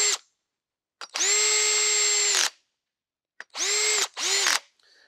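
Power drill on a low torque setting driving screws into a Gordion 20 gauge compact shotgun buttstock, three loud close whirring bursts with steady pitch, separated by silence, the last two short and back to back.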